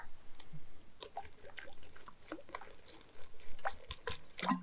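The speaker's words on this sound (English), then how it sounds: "I'm gonna add some water." Water being added into a Vitamix blender jar in a kitchen, heard as scattered splashes and drips of varying strength, close and fairly quiet, with no talking over it.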